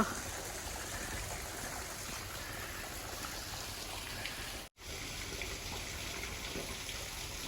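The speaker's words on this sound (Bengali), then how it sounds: "আর এই হলো রুট ওয়াটারফল, দুর্ধর্ষ।" Root waterfall in the Garden of Caves at Cherrapunji, Meghalaya, with water falling from above as a steady, soft, hissing rush that continues unbroken apart from one very brief dropout.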